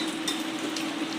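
Potato bhaji simmering in a pan, a steady, dense sizzling and bubbling hiss that stays even and fairly loud throughout, with faint soft ticks of movement and no talking.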